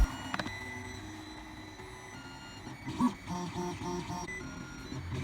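A desktop 3D printer runs indoors in a room, its stepper motors whining in steady tonal hums with shifting pitches and a short burst of busier movement partway through, no voices.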